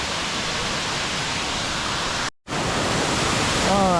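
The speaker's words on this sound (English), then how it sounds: "to my right is Bridal Veil Falls, the biggest one, but there's like 8 waterfalls in this area" A steady, roaring waterfall, Bridal Veil Falls near Valdez, Alaska, fills the air with dense white rushing noise, briefly cutting out for a moment before continuing strong.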